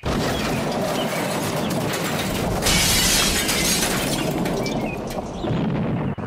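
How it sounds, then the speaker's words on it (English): A crash with glass shattering in a children's storybook scene where a train engine smashes into a station master's house, a loud, dense sustained burst of breaking and clattering debris that swells midway and then fades. "There was a crash. The house rocked, broken glass tinkled"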